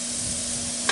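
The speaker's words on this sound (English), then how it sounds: "That's what I want to hear, a little sizzle" Steady close-up sizzling of chicken fajita on a hot Masterbuilt 560 gravity-fed grill, a constant hissing crackle with one brief louder scrape near the end.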